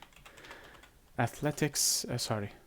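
Light keyboard clicks from typing on a computer during a tabletop role-playing skills lesson come first and faintly, then a close voice talks over the rest.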